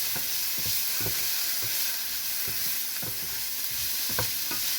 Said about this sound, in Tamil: வெங்காயம் போட்டு நல்லா லைட்டாக வதக்கினா போதும்.